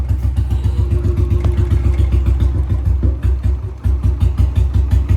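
A Royal Enfield Bullet-style single-cylinder engine ticks over at low RPM, a loud, close, even thumping beat with mechanical clatter that continues steadily throughout.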